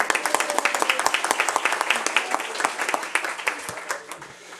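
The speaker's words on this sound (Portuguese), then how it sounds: "Uma salva de palmas para ele." An audience at a law congress breaks into steady applause, many hands clapping in a dense, rhythmic patter that fades slightly toward the end, with some voices faintly underneath.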